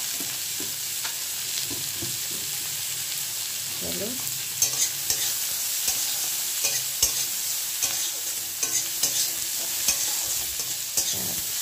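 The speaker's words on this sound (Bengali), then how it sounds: "পেঁয়াজটাকে আগে হালকা ফ্রাই করে নেব একদম" Finely chopped onions, two large and two medium, fry in a pan with a steady sizzle, while a spatula scrapes and stirs in repeated clatters. A voice speaks briefly.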